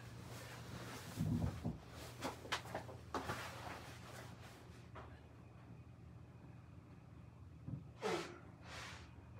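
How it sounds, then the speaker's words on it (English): Someone blows their nose in a few forceful, wet bursts, then it goes quieter before two short sniffs near the end, all fairly faint. "I actually have to blow my nose quick."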